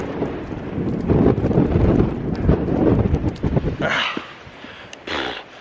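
Winter wind buffets the microphone on a Lake District hillside hike, a loud continuous low rumble with gusty surges that drops away near the end, leaving a quieter spell with a couple of brief rustles.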